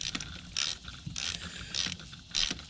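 A ratchet wrench tightening the fuel pump mounting bolt on a 2014 Audi Q5 2.0T engine, four short bursts of close clicking ratchet strokes separated by brief pauses, with faint handling noise between them.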